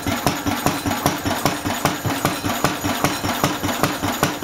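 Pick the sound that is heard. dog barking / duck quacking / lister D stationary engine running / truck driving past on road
lister D stationary engine running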